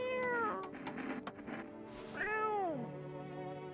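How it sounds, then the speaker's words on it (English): A cat in the video game No I'm Not A Human meows twice, a clear, drawn-out mew followed by a second rising and falling meow after some faint clicks. "except for the cat."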